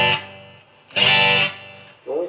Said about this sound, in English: this is my Squier Telecaster. Playing it straight into the Marshall.